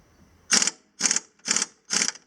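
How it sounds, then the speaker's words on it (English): A wrench works a 5/8 pulley bolt loose on a Timberking 1400 sawmill during a motor upgrade, giving four short, evenly spaced ratcheting bursts, close and fairly loud, with near silence between them. "We're just going to loosen up this bolt here first."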